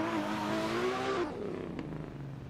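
A drift car in a chase run roars at high revs, its engine note sliding down as it straightens out, with tyre noise fading behind.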